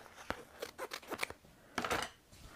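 Scissors snip through cardstock to cut out small tire shapes, a series of crisp close cuts in quick irregular bursts.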